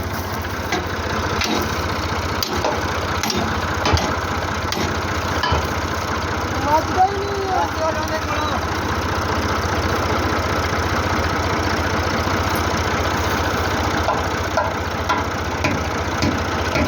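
A large tractor engine idles at night during a wheat harvest, a steady low throbbing rumble with occasional knocks and clanks, while people talk nearby.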